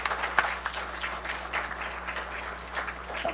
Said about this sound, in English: Everyone give a round of applause for our new members.